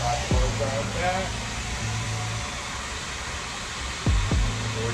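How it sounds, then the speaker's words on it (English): A blow dryer runs steadily on a lace frontal wig during an install, a continuous airy whoosh with a low hum, while a voice speaks briefly near the start and end. "I will take my blow dryer as I blow dry that"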